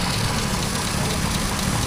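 A car engine idles steadily, a constant low rumble with a dense hum, close by and uninterrupted, with no talking.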